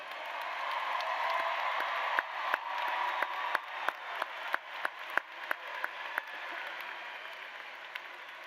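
Audience at the 2024 L.D. Bell High School graduation applauding, a broad roar of clapping with scattered sharp individual claps standing out in a loose rhythm, the crowd noise staying steady before easing slightly near the end.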